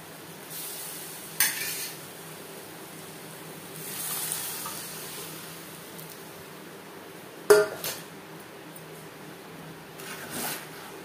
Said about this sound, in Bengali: মশলার সাথে ডাল বেশ ভালো করে মিক্স করে দেব।